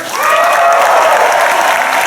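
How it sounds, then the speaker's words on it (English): A theater audience at a Star Wars Weekends event with Mark Hamill at Walt Disney World bursts into loud, dense applause, with a few cheers mixed in. It starts after a brief pause and holds steady and close for about two seconds. "big round of applause for everybody in the booth over there"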